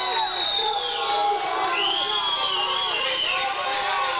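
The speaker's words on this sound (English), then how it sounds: "As the faithful here cheer on their Popejohn Lions and try and get them a goal" Hockey fans cheering on the Pope John Lions in a rink, a loud sustained crowd roar with whistles and shouts layered over it, an announcer's voice talking beneath.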